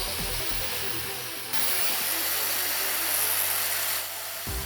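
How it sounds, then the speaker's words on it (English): A 220-volt, 800-watt angle grinder running off a generator, producing a continuous high whine with a steady hum beneath it, switching up in intensity partway through and dropping near the end. "We're also going to connect an angle grinder that operates at 220 volts and requires 800 watts of"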